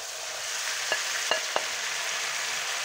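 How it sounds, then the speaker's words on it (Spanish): Chicken pieces fry in a hot pan for a paprika chicken stew, giving a steady hiss of sizzling with a few soft clicks of stirring, close and alone. "agregamos el pollo de nuevo."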